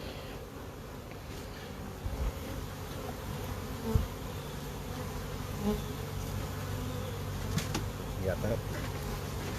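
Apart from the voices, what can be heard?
honey bees buzzing around hives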